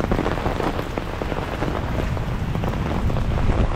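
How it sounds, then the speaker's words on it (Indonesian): Rain falls steadily on a street in Mecca, a dense, even hiss of drops close by with a low rumble, continuing without pause and with no voices. "Nak main air hujan. Jom kita main air hujan."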